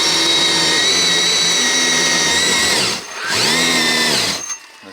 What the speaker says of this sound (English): so let's start winching